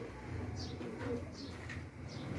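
Pigeons coo softly in a breeder's coop, low rumbling calls blending with faint background chirps and distant indistinct voices.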